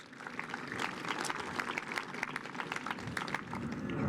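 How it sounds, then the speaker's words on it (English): Audience applause at a fire and lifeguard awards dinner in Newport Beach: dense, steady clapping from a large seated crowd throughout, fairly loud and close, with no talk over it. "How about a big round of applause for all of our sponsors?"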